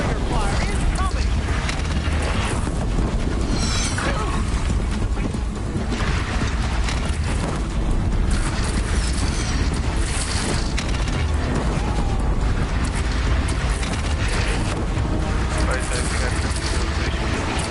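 Destroyer fire explodes around the player in a robot dinosaur video game, a dense, unbroken wall of booming blasts and mechanical rattling that runs the whole time under a speaking voice.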